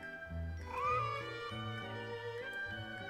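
A cat meows in the Genshin Impact game during a cat event, with several drawn-out, rising and falling mews over a bed of background music, close and clear with no talk.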